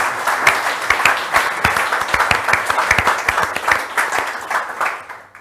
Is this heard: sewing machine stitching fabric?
no